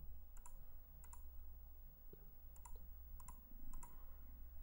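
A computer mouse clicks in Photoshop while spots are removed, giving a few sharp, faint single and double clicks spread over quiet background hum.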